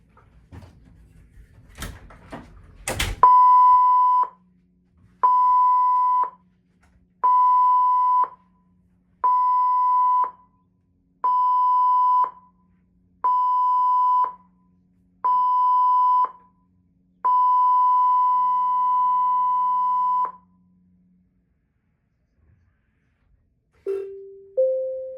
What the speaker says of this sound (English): please stand by for the emergency signal